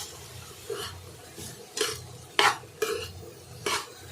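Washed, shredded cabbage is tossed and mixed in a pan for a wedding-style poriyal, with about six distinct scraping strokes of a utensil against metal over a soft, low sizzle.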